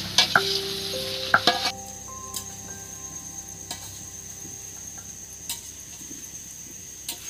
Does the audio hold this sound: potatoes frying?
yes